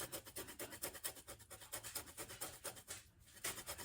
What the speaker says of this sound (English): And then I'm going to grate a little bit of lemon zest in here,